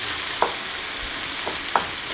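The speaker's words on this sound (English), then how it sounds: "This is sort of a combination of steaming and... and frying, yes, exactly." Zucchini frying and steaming in a pan for a Persian zucchini omelet, a steady close sizzle with a couple of brief sharper crackles or stirs.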